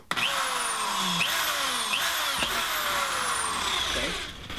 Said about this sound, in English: So what I'm gonna do is just drill